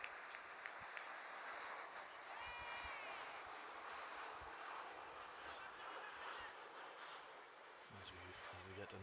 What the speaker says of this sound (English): As we get another airliner pass over above us